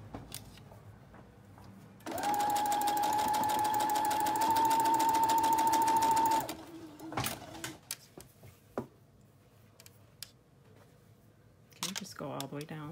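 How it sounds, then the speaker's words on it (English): A sewing machine stitches the side seams of a child's knit fabric cape, running steadily for about four seconds at close range. Handling noises follow, and the machine starts again briefly near the end. "I'm just going to sew the side seams of the poncho, of the little cape"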